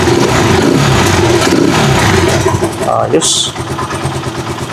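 A Rusi Chariot 175 motorcycle with a Bajaj engine runs at a steady, smooth idle close by, holding the same note for several seconds while someone talks over it.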